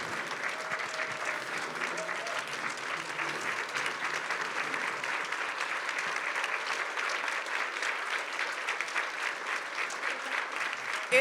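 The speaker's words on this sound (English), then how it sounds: "Let's give our panel a round of applause." An audience at a justice-system discussion event applauds its panel with a continuous, fairly soft wash of clapping that is even and unbroken from start to finish, with faint voices underneath.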